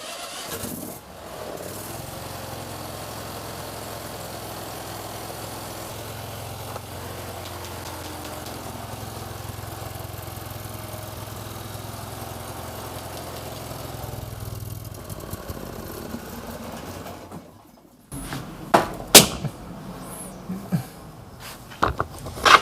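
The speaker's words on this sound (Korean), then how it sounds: "한번 시동을 걸어보도록 하겠습니다" A Vanguard 23HP gasoline engine on a repair bench runs at a steady idle for roughly seventeen seconds, then cuts out and leaves irregular clunks and clatter from the machine.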